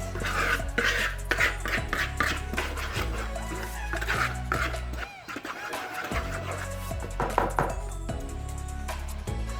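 A spoon or whisk works through flatbread dry ingredients, flour and sugar, in a bowl, making repeated close scraping and clinking strokes in an irregular rhythm with a brief pause midway.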